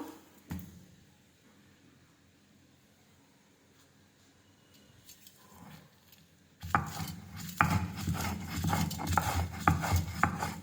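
Green chillies and salt ground finely on a grinding stone for an amra and coriander-leaf chutney: after quiet taps and scrapes, a loud, rough, rhythmic rubbing and grinding starts abruptly and continues steadily to the end.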